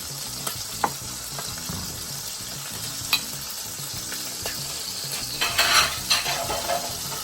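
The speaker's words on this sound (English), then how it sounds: "we're gonna add a little bit of butter. Actually, I'm gonna add the whole thing." Butter melts into a sizzling sauce for blackened chicken pasta, a steady close crackle with scattered clinks and scrapes as it is stirred in the pan; no speech.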